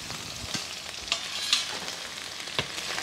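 Okra and potatoes fry in a pan with a soft, even sizzle, while a few scattered scrapes of a stirring utensil sound up close.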